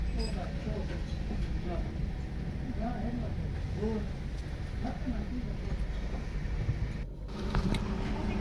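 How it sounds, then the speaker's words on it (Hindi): A car with a cylinder misfire idles steadily after starting, a low continuous engine rumble close by, with a brief dip near the end. "गाड़ी होगी स्टार्ट।"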